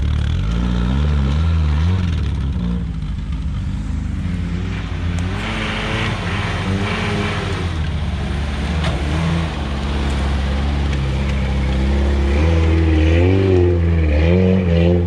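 Suzuki Samurai off-road truck fitted with Toyota axles, driving through trees: a steady, close engine drone with rising and falling revs that climb and ease over a long stretch, largely without talk.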